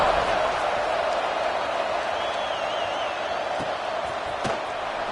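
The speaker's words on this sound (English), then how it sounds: "this crowd is buzzing after that last score" A football stadium crowd during a Miami versus FSU game buzzes steadily after a score, a broad continuous roar with a few sharp bangs standing out, heard from a distance throughout.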